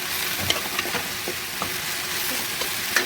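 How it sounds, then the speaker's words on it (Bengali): Okra stirred and fried with spices in a pan gives a steady sizzle, broken by a few light scrapes and clinks of a spatula, close and moderately loud. "ভেন্ডি দিয়ে এখন বেশ কিছুক্ষণ নেড়ে চেড়ে নেব মশলার সাথে"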